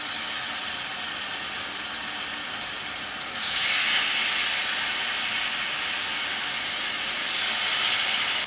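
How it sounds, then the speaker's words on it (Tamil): Marinated chicken for chicken tikka masala is laid into hot oil on a grill pan and sizzles with a steady hiss that surges louder partway through and again near the end, with no voices. "எண்ணெய் சூடானதுக்கப்புறம் மேரினேட் பண்ணி வச்சுருக்க சிக்கன் வந்து இதில் ஆட் பண்ணிக்கோங்க."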